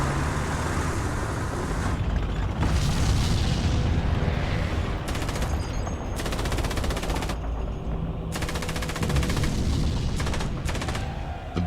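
Soviet T-34 tanks fire during a World War II battle, with dense, continuous gunfire, machine-gun bursts and heavy cannon bangs that roll on without pause.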